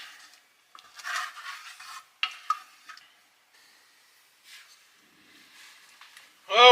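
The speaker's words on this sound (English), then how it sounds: "Now we're just going to keep stirring this as it heats up until it is boiling" A spoon scrapes and stirs strawberry pie filling in a pan as it heats toward boiling, giving intermittent soft scraping strokes and clinks with quiet gaps between, ending with a brief louder clatter.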